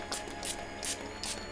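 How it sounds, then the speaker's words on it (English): Four short, soft hissing bursts of spray in quick succession, close by and fairly quiet. "I'll just leave my shield in place whilst I spray the water."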